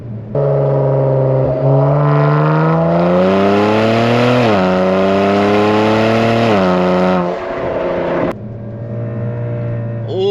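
Kia Stinger with catless downpipes revving hard, a loud brassy, trumpet-like engine note rising and falling in pitch through several sustained pulls before dropping back to a lower drone, heard close from inside the car.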